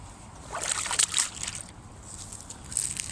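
Wading through roughly foot-deep floodwater in the Shardlow Marina car park beside the River Trent: soft sloshing and splashing strides close by, with a few brighter splashes, fairly quiet overall.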